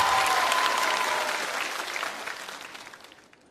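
Applause from a comedy show audience at a stand-up and magic performance, a full burst of crowd clapping that starts loud and gradually thins and fades over a few seconds.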